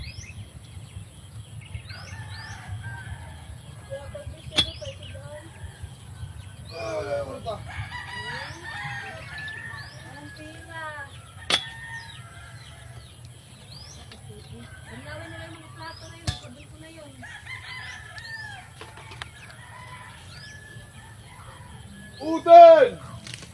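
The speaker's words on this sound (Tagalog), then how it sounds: "Oy mga manok, huwag kayong lalayo." Backyard chickens clucking with a rooster crowing at intervals, moderately close, over a steady low hum, with a louder crow near the end and people talking at times.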